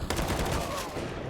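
M4 and AK rifle fire in a Counter-Strike style esports match, a dense, fast burst of overlapping gunshots heard close and loud across a short stretch, with faint talk underneath.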